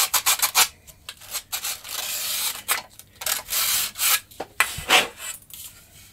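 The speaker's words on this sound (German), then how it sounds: "Etwas Schmirgelein um so einen Holzstab und ich habe einen kreisrunden Schleifklotz." Rhythmic back-and-forth strokes of sandpaper wrapped around a wooden dowel rasp against wood, loud and close, in uneven bursts with short pauses between.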